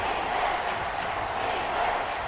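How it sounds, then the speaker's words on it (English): A stadium crowd in Madden NFL 24, at a Tampa Bay versus Indianapolis game, gives a loud, unbroken roar of massed noise that holds steady and fills the whole moment. "this crowd is making an impact right now"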